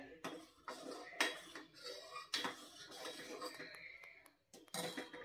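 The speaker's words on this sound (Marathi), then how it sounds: "परत ढवळून घ्यायचे आणि हे आपल्याला मिश्रण छान दाटसर करून घ्यायचं आहे।" A spoon stirs sago in milk for fruit custard, making quiet metallic clinks and scrapes against the pot in irregular bursts, with short pauses between strokes.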